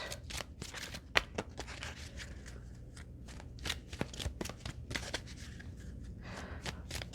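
Life purpose oracle cards being shuffled by hand, close crisp riffling and flicking bursts repeating in an uneven rhythm, with no talking.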